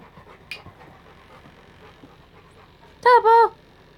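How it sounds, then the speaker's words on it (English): A newly adopted dog breathes softly and faintly at first, then gives two short, clear whimpers close by near the end. "Yes, my new dog."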